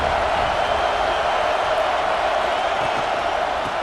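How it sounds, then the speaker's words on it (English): A simulated Alabama Crimson Tide stadium crowd at Saban Field roars on a third down in the video game College Football 26, a loud, steady wash of crowd noise that holds without a break. "The Tide crowd rolling noise down onto Saban Field on 3rd down."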